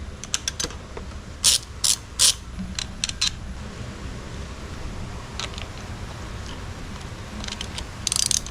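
A ratchet loosens bolts on a Suzuki 2.5 HP outboard motor: close, sharp bursts of rapid clicking come in short groups at uneven intervals, with quieter handling noise and a faint hum between them.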